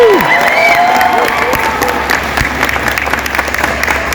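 A fan expo panel audience in Denver bursts into loud applause and cheering close to the stage, steady clapping with whoops that slowly thin out over a few seconds, with no talking.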